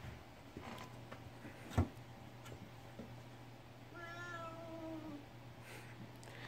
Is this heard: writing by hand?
no